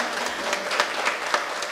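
An audience claps at a dedication ceremony for new projects at a school and home for the blind, with dense, even applause and a few sharper individual claps standing out.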